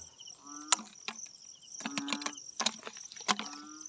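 A grasshopper in an open field gives short, repeated chirps and buzzing bursts, fairly close and moderately quiet, scattered unevenly over a faint background.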